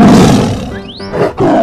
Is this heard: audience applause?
no